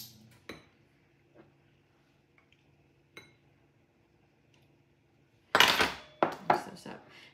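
A utensil stirs a dry mix of about half a cup of sugar, cornstarch and two tablespoons of flour in a bowl. A few light, sparse clicks are followed by a louder, close burst of scraping and clinking near the end.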